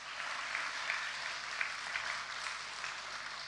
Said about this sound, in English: Give these two a round of applause.